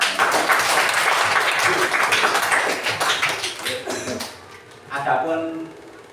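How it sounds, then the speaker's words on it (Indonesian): Schoolchildren in a classroom clapping for their classmates, a loud burst of quick hand claps that thins out and fades, followed by a teacher's voice speaking. "tepuk tangan untuk teman-teman"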